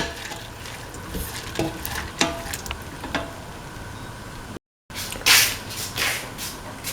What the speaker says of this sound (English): Mix the lentil into the mixture thoroughly.